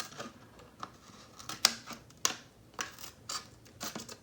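Scissors snip and trim a clear plastic body shell for a Team Associated B6.3 RC buggy, a series of sharp, close cuts spaced irregularly with crinkling plastic between them and no talking.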